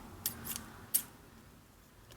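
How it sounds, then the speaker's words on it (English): Large oversized scissors snip through paper while making a handmade birthday gift tag, giving three short, crisp cuts close to the mic at a steady pace, then quiet. "Come on, giant scissors, you can do it."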